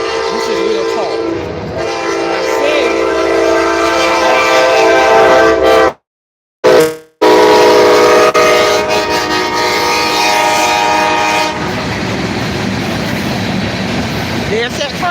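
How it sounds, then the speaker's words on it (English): A train passes nearby, its horn sounding loud and sustained, with rumbling cars and wheel clatter continuing behind it. A brief gap interrupts the sound partway through, and a voice is heard at times. "There's that train."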